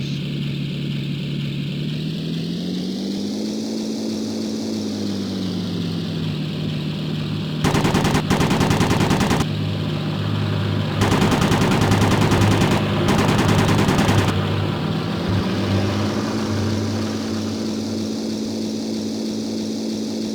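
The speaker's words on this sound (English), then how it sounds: "It speeds up your machine guns." Rapid machine gun bursts from a fighter plane in the video game Beyond Pearl Harbor: Pacific Warriors, with several long rattling volleys over a constant droning propeller engine that rises and falls in pitch.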